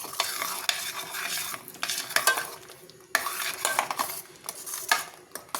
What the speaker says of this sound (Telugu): ఇవన్నీ ఒకసారి బాగా ఫ్రై చేసుకుందామండి.